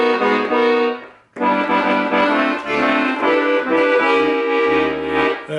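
Accordion playing an alternate ending of a song, full reedy chords with a bass line underneath, loud and close, a short gap after the first phrase before the melody continues.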